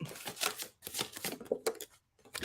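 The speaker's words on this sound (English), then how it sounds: "I'll just shuffle my cards" A deck of tarot cards shuffled by hand in a series of quick riffling bursts with short pauses between them, close and fairly loud, with no talking.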